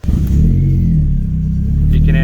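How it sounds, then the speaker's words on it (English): A 2002-2003 Ford Focus RS Mk1 engine idles steadily with a low rumble, a faint high squeal from a squeaky fan belt riding on top, and a voice speaking over it. "You can hear the squeaky fan belt."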